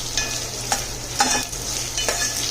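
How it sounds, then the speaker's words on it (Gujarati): Fifteen green chillies roasting in a pan, a soft steady sizzle broken by a few sharp scraping stirs of the spoon against the pan, close and clear with no voices. "મરચાં એકદમ સરસ શેકાઈ જાય ત્યાં સુધી આપણે એને શેકવાનું છે।"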